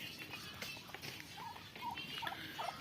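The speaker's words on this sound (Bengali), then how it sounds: "এই হচ্ছে আমার টার্কিগুলো।" Turkeys on a farm, kept in a small net-fenced field, give several short, high gobbling calls in the second half, moderately close, over a steady rustling background.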